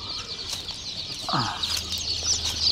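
Local chicks and ducklings chirping together in a group, a dense run of high, continuous peeping with one lower, louder call rising partway through.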